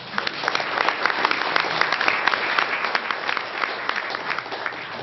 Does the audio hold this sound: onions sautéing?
no